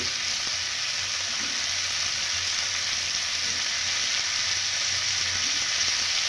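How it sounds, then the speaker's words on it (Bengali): Chopped potatoes fry with onions in a pan for a Bengali egg dish, an even, unbroken hiss of hot oil close by, steady in level, with no stirring accents and no speech. "আলুটাকে দিয়েও আমি পেঁয়াজের সঙ্গে একটু সময় নিয়ে ভালোভাবে ভেজে নেব"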